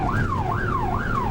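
A British police car siren wails in a smooth rising-and-falling cycle, loud and close, sweeping up and down about twice over a low engine rumble with no talking.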